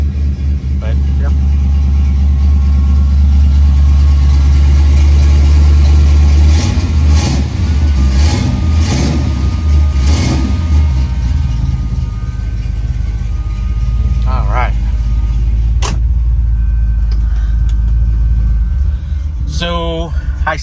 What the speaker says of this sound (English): It's got Flowmaster mufflers on it, so it's a little loud, but it quiets down.